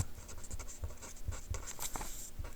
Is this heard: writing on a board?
yes